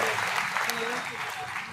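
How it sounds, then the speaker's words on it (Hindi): A crowd gives a team a hearty round of applause at the Ratnawali event: thick, continuous clapping filling the whole short stretch with no pause. "एक जोरदार तालियां पूरी टीम के लिए"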